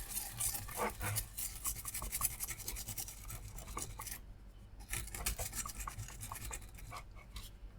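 Rapid, dense scraping and scratching comes from close up as lizard residue is worked off an air con compressor circuit board, with short pauses between bursts and no voices.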